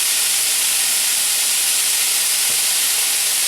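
Food sizzling in a hot pan as it fries toward crispy brown, served alongside a rack of lamb, giving a steady loud hiss with no breaks and no voices.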